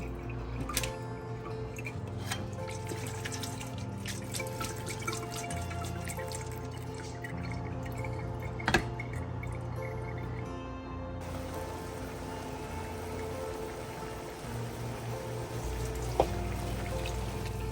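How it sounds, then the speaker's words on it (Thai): Water being tipped off soaked glass vermicelli noodles, a steady close trickling and dripping pour with a few sharper drips, continuing for the whole stretch with no talking. "When the noodle is soft I rinse off the water"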